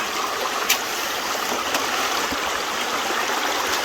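Steady flow of water running through a gold sluice while working bedrock for flour gold, a continuous close trickling rush with a small splash or knock near the start.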